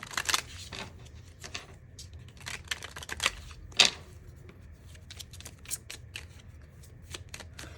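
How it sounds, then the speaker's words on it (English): Affirmation cards shuffled by hand in repeated quick riffles and flicks, close and crisp, a steady papery patter lasting throughout without speech. "We're going to follow in the reading with some affirmation cards for you."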